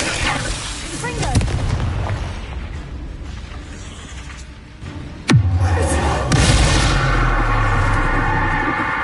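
A Confringo fire spell bursts in Hogwarts Legacy with one sharp, loud bang midway, followed by a lingering rumble and crackle over the game's background ambience, with softer magical swooshes before it.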